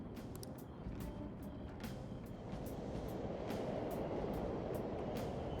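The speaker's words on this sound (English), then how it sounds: "The trains are totally running." Subway trains run through an underground station in the video game Persona 5 Royal, giving a steady loud rumble with repeated clacking wheel noise that builds slightly over time, and no talking.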